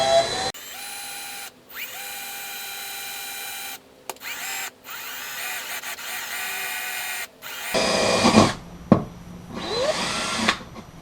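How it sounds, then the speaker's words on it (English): A power drill whines continuously with brief pauses, then grinds harder and rougher as the bit, run in reverse, bites through a boat's gel coat, loud and close. "If you run your drill bit in reverse till you get through the gel coat"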